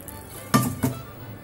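A thickened chocolate peda mixture of milk is transferred into a bowl, two sharp metallic clinks of a ladle against the vessel close up over quiet kitchen background.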